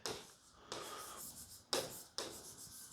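Pen strokes scratching across paper or a board during a German lesson, a few brisk rubbing bursts with short pauses between, close and quiet, no voices.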